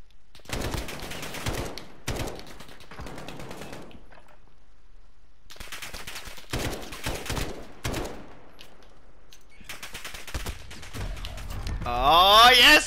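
AK-47 gunfire in Call of Duty: Modern Warfare comes as sharp repeated bursts of rapid shots, separated by short silences, with a burst of electronic game noise at the end.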